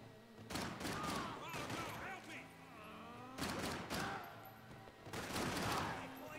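Gunfire in the action shooter Max Payne 3 rattles in loud, dense volleys that come in several heavy waves, with voices talking amid the shooting.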